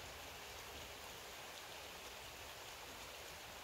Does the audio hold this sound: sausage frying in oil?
no